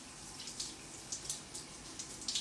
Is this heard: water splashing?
yes